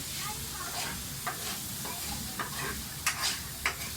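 Chayote and carrot being stirred in a frying pan with a spoon, a steady low sizzle running throughout and a few sharp scrapes and clatters near the end.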